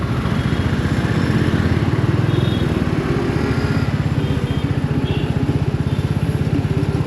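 Royal Enfield Meteor 350 motorcycle pulling away in first gear, its single-cylinder thump throbbing in a rapid, even beat, close and steady throughout with no talk over it.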